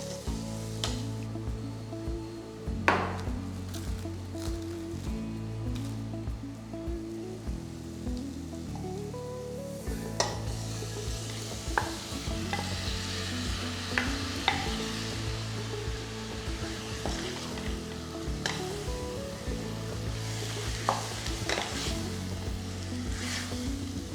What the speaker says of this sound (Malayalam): ചിക്കനെ ഹൈ ഫ്ലെയിമിൽ ഒരു 2 മിനിറ്റ് ഹൈ ഫ്ലെയിമിലൊന്ന് കുക്ക് ചെയ്യാം.